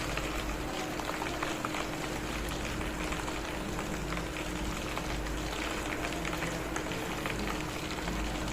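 Homemade ghee simmers in a pan, a continuous dense crackle of fine bubbles and sizzling that stays steady and close throughout, with no voices.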